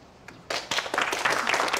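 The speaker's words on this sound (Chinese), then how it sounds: "掌声欢迎。" A party crowd breaks into sudden applause to welcome two women singers, starting after a quiet moment and building into dense, close clapping.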